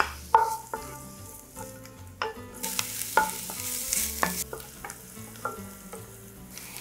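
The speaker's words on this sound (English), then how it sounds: "I'll fry my finely chopped onions until they have a nice golden brown color" Finely chopped onions fry in vegetable oil in a pot, with a hissing sizzle, sharp clacks of a spoon striking the pot, and stirring scrapes, intermittent and close, with a low steady background underneath and no speech.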